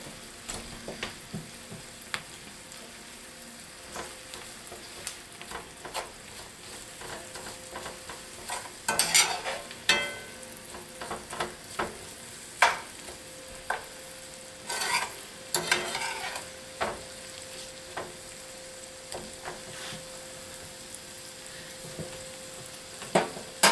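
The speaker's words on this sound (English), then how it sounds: "We're just going to let this sizzle a while, and when it gets translucent and it starts letting go its flavors" Stuffing ingredients with red pepper flakes sizzle softly in a pan, a steady low frying hiss broken by repeated scraping stirs and clinks of the utensil, close-up and with no voice.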